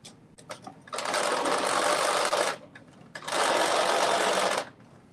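A sewing machine runs basting stitches in two distinct bursts, each a loud, dense whirring run of about a second and a half, separated by a brief quiet pause with faint handling noise.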